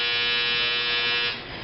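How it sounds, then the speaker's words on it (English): A clothes dryer buzzer sounds in a home kitchen, a loud, steady electronic buzz held close for over a second before it drops off sharply. "That was the dryer."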